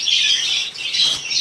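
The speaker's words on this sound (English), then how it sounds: "I'm in the birds room." Dense, shrill chirping and squawking from lovebirds and budgerigars in an indoor bird room, many birds calling at once in a continuous, loud, close chatter with no talk.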